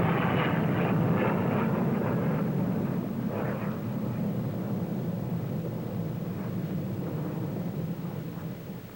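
A huge Victor bomber flies past at the Farnborough air show. Its jet roar is deep and loud at first, then slowly fades with a rumbling, wavering texture, and nobody speaks.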